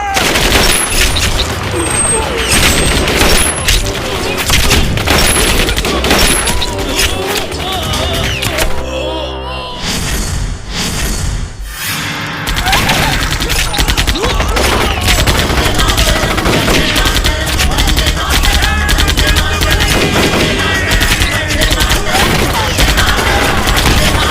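Dense gunfire follows a fire command in an army short film: continuous rapid bursts of loud shots, with a brief, slightly quieter lull midway, then more sustained volleys, with voices faintly mixed in.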